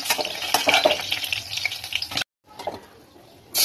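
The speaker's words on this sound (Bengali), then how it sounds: "তো এবার বাকি মাছগুলো ভেজে নেবো।" Snakehead fish pieces frying in hot oil, a close, bright crackling sizzle that cuts out briefly and resumes more quietly, ending with a sudden loud burst of hiss.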